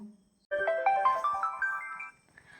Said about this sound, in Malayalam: ഫോണിലേക്ക് ഇതാ വീണ്ടും കോൾ വരുന്നു